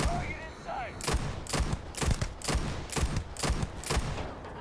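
Gunfire in the video game Starfield rings out as a series of loud, sharp shots in an uneven rhythm, about eight bursts spread over several seconds, with a brief whistling tone at the start.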